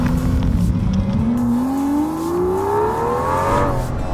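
A V12 Aston Martin engine hums from inside the cabin, its pitch climbing smoothly as it accelerates, steady and loud with no talking.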